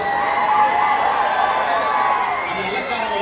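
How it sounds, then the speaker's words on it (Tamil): A crowd cheers and whoops at a mall grand opening in Thanjavur, a steady, dense wash of voices and shouts that holds at a constant level for a few seconds, with people talking amid the din. "மீண்டும் ஒரு பெரிய கைத்தட்டி கொடுத்துருக்கோம்"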